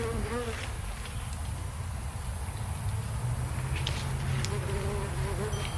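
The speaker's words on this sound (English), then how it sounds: "every once in a while you'll probably see some honeybees in the camera" Honeybees buzz steadily around a garden, a continuous close insect hum that carries through the whole stretch without a break.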